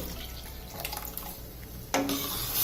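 Water left from boiling peas and potatoes trickles and splashes steadily, then a louder pour or gush starts near the end, close by.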